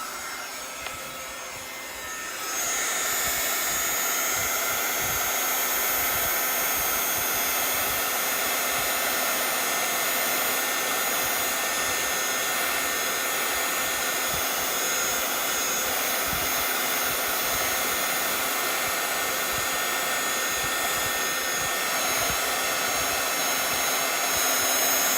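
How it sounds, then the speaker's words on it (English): A handheld craft heat tool blows hot air to heat set a panel, giving a continuous loud, steady whooshing drone that holds unchanged for over twenty seconds after a quieter start. "getting your heat tool up and running, getting it nice and warm so that when you are ready to heat, it's nice and warmed up"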